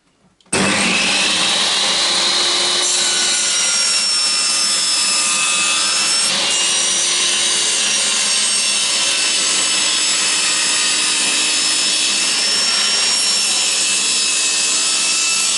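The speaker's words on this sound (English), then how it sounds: "Right, I'll rip this in half on this saw bench." A saw bench rips a wooden board in half with a loud, steady, harsh cutting roar that starts abruptly and holds at full volume throughout, with no speech.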